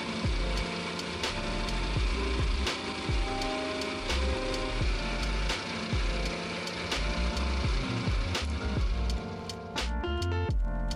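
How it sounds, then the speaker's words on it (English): A hacksaw works through a 1/8-inch thick aluminum bar drilled with rows of holes, a loud close rasp in steady back-and-forth strokes throughout. "Then I cut these sections apart using a hacksaw."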